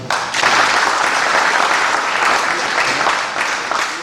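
An audience at a solar installation training ceremony for young trainees in Dolisie applauds steadily and loudly, the dense clapping rising quickly after a brief quiet start and holding throughout.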